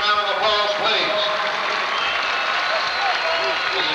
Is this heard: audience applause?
yes